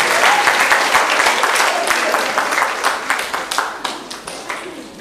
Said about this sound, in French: je voudrais inviter l'Assemblée à applaudir pour l'initiative